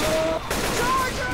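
Gunfire in the Left 4 Dead 2 zombie shooter, a short burst of shots in a dense, busy game mix, loud and close, with other game sounds layered around it.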